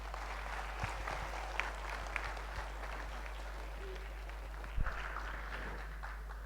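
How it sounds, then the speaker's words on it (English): Applause from a lecture audience at the IIT Kharagpur Kshitij 2016 festival, soft and somewhat distant, a steady patter of clapping with a few sharper claps standing out, no talking over it. "give him a big applause"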